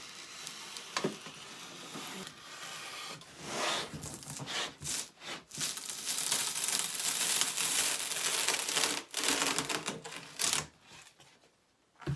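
A drywall axe saws through fabric and foam insulation in quiet, ragged strokes of rough scraping and tearing. The bursts are uneven, with short pauses between them, and no one speaks.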